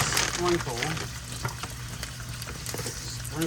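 Garlic stir-frying in a hot pan over high heat gives a steady crackling sizzle with scraping stirs, while a voice speaks briefly at the start and end.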